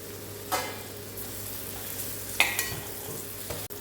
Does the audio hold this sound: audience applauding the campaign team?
no